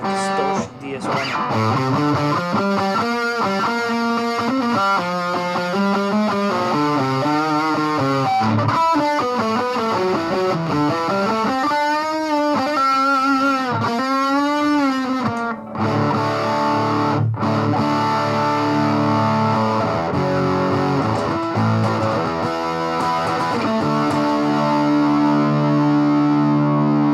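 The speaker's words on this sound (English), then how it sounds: "Let's go with a Distortion DS1." Electric guitar played through a Boss DS-1 distortion pedal, loud and saturated, with chords, riffs and bent sustained notes ringing continuously with slight reverb.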